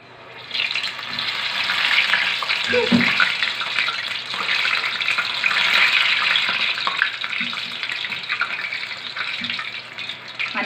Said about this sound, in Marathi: आता वडे सोडायला मी सुरुवात करणार आहे